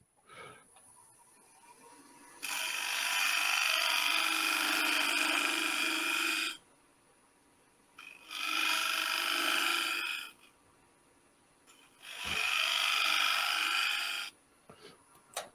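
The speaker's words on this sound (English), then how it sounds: "I'm going to scrape this little section right in there." Shear scraping with a woodturning tool across a turned wooden bowl, three bursts of steady, bright, rasping scrape of about four, two and two and a half seconds, separated by quieter gaps of faint lathe hum.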